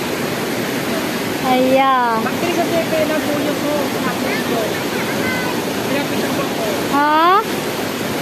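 Floodwater rushing after only light rain gives a loud, steady, continuous roar, while people nearby call out and exclaim over it a couple of times.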